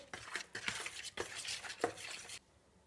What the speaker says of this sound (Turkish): Tekrar karıştırıyorum.